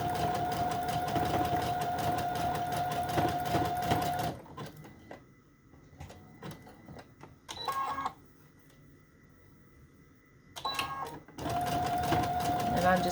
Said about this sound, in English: I'm going to zigzag right over that flower